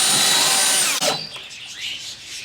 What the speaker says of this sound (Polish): Przykręcamy to do ścian cm daje wkręty 5 cm